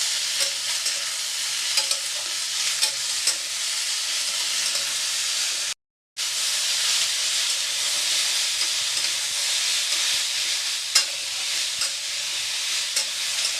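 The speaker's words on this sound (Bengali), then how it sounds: "এবার আমি এর মধ্যে একখানা বড় সাইজের টমেটো দিলাম। এটাকেও একটু ভালো করে ভাজবো।" A large tomato fries in a pan for capsicum paneer, a loud steady sizzle with occasional stirring scrapes that runs continuously apart from one brief break.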